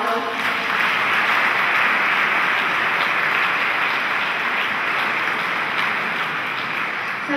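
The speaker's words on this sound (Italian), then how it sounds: "Farei un altro applauso." An audience applauds at a church-hosted nativity scene event in Italy, a steady, dense clapping that holds evenly at full strength throughout, close and continuous.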